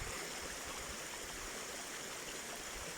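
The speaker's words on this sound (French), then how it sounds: "Simplement se laisser porter par le bruit de l'eau" Water flowing steadily in a constant rushing hiss like a stream, even and unbroken throughout, with no voices.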